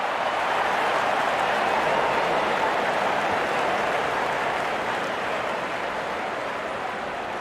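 Crowd noise in a cricket video game, a dense, loud, continuous roar of cheering that fades slightly toward the end, with no talking over it.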